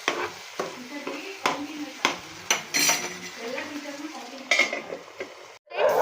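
Pizza sauce ingredients fry in a pan while a utensil stirs and scrapes against it, giving repeated clinks and knocks over a soft sizzle, close and fairly loud.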